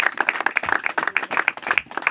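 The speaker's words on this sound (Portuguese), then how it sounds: "Vamos dar uma salva de palmas para Jesus, irmão?" A church congregation at a recovery house claps in brisk, uneven bursts for a couple of seconds, fairly close and moderately loud, with a faint voice mixed underneath.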